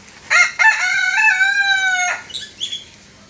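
A rooster gives one loud, close crow, rising and then drawing out, at a pottery jungle garden in Singapore. A few softer clucks follow.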